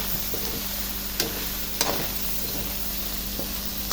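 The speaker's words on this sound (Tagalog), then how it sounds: "Ilalagay ko na ang aking talong. Ayan, haluin ko lang yan." Sliced eggplant sizzles in a hot frying pan while being stirred for a vegetable pakbet, a steady close hiss broken by a couple of sharp utensil scrapes against the pan.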